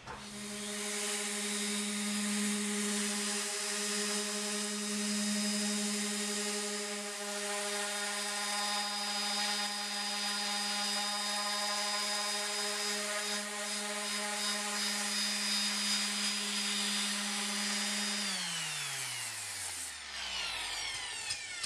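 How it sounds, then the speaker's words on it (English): A DA sander with 80-grit paper works across the roof of a 1960 Chevrolet Impala, a steady, loud whirring drone with a strong tonal hum that holds for about eighteen seconds, then winds down in pitch as the tool spins to a stop. "the whole roof's been DA sanded with 80 grit"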